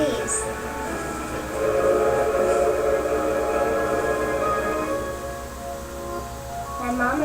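A GE-built train sounds a sustained whistle-like tone over a steady, moderately loud rumble, with a brief high squeal near the start and rising tones at the end.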